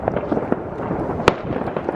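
New Year fireworks burst in a dense, continuous barrage, with rapid crackling pops and one sharp nearby bang standing out against the loud, rumbling background.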